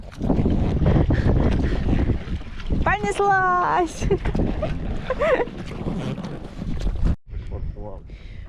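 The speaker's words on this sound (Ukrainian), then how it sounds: "Мотор включився." Outboard motor on a small fishing boat heading back to the lake shore, a steady loud drone with wind buffeting the microphone, while people talk and exclaim over it.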